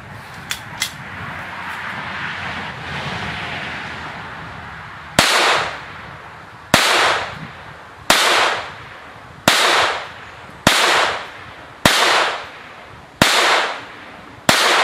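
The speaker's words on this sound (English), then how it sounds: "I didn't quite shoot those at the 7 yard" Gunshots from an ATI GSG Firefly pistol (2018 model) at an outdoor range: a string of about nine loud, close shots fired at a steady pace of roughly one every second and a half, each ringing out briefly.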